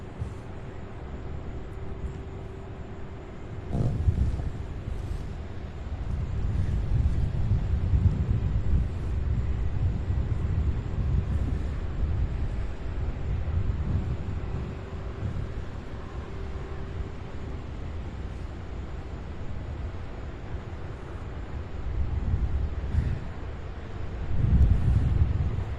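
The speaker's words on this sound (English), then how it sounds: "Oh, you guys, that wind." Steady wind buffets the microphone at an airport plane-spotting site, a loud rumbling roar that swells and eases over time, with a faint tonal hum and occasional thumps, no talking.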